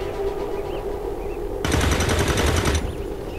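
Rapid automatic gunfire from XCOM 2 rattles over a constant game background, swelling into a louder, denser burst of sustained fire for about a second before dropping back.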